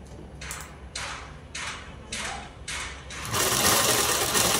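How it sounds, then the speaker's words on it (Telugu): Electric sewing machine stitching a V-neck blouse, running in five short rhythmic bursts with pauses between, then a longer continuous loud run of stitching at the end, close up with no speech. "అలా కటింగ్ చేసేసుకున్న తర్వాత ఇక్కడ నుంచి అనేది ఇలా పెట్టేసి కుట్టు అనేది వేసేద్దామండి."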